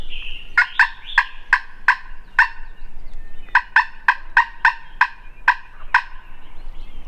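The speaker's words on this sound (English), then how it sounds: "He's gobbling so much" A wild turkey gobbles again and again in quick rattling bursts, loud and fairly close, with short gaps between calls and no talking, during a late-morning hunt in Kentucky.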